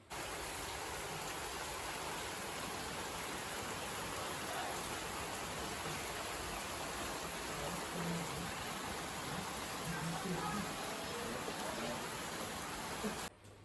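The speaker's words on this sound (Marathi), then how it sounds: "बाहेर बघितलं केवढा पाऊस पडतोय" Heavy rain pours steadily outside, a dense continuous wash of falling water with no spoken voices, holding at an even level throughout before cutting off abruptly at the end.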